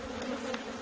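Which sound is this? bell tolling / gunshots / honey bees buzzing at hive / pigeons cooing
honey bees buzzing at hive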